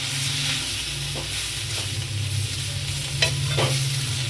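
Chopped tomatoes sauté in a pan for a minced-meat kulambu, a constant close sizzle punctuated by several spaced spatula scrapes and stirs, with no voices.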